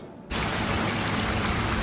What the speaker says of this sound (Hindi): और रात को हो गई थी बारिश स्टार्ट और ये रेन ने इतनी मज़ेदार थी ना